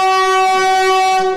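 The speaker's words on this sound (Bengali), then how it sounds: "তো ট্রেন আমাদের দেখুন আসছে।" A white Vande Bharat train arriving at a station platform gives a single loud, sustained horn blast with a steady tone that fades slightly at the end.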